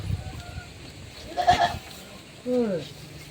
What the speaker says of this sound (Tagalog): Yung mga kambing.